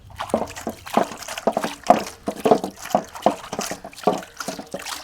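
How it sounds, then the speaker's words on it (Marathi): Water sloshing and splashing inside a steel container being rinsed clean by hand, with repeated close, irregular splashes and drips over about five seconds and no talking. "आता आपल्याला घ्यायचा आहे हा डबा इथं घेतलं पाणी तर त्या पाण्याने धुवून घ्यायचं आहे"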